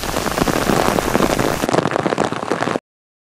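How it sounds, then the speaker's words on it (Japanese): Heavy rain pounds down on the flooding streets of central Sapporo in the morning, a loud, dense, steady downpour close by with no voices, ending abruptly. "強い雨が打ちつけていて、道路はもう水が溜まっています。"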